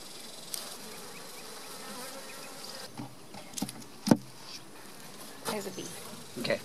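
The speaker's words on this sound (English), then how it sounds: "There's a bee." Honey bees at a beekeeping hive buzz continuously nearby with a steady insect hum, joined by a few brief knocks and handling sounds.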